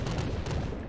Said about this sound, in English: I don't think bubble explosions hurt me